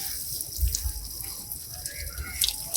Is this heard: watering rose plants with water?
yes